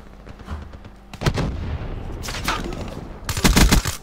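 Bursts of gunfire in a shooter video game, loud and close, with short volleys separated by brief pauses and a heavier rapid burst at the end.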